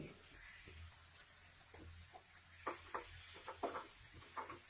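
Chicken pieces go into a pan of fried onion and tomato puree masala, bringing a steady low sizzle with scattered sharper crackles and hiss near the end, close and fairly quiet.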